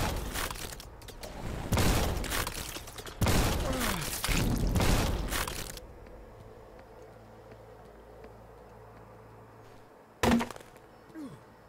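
Shotgun blasts in the video game Forgive Me Father, several loud, booming shots in quick succession, then a quieter stretch and one more sharp blast near the end.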